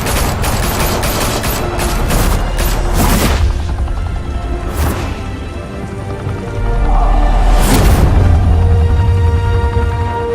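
Loud gunfire from a Batman video game: dense bursts of rapid shots, heavy booms and a deep rumbling swell near the end, with no talking.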